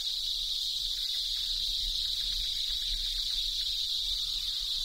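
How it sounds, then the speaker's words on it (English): Cicadas in an Indian jungle produce a dense, continuous high-pitched buzz that stays loud and steady throughout, with no other sounds or voices. "there may be hundreds of cicadas, and many hundreds of thousands throughout the forest, creating a noise so loud it repels the birds"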